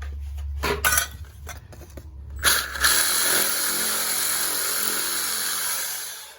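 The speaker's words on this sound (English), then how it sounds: "Like I said, I have a Milwaukee hacksaw here." A Milwaukee hacksaw cuts a drain pipe for a leaking P-trap, starting with a few rough strokes and clanks, then settling into a sustained close grinding rasp.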